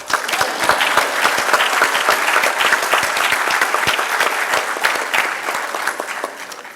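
Steady applause from a conference audience, dense, continuous clapping that holds at an even level for several seconds before easing slightly at the end.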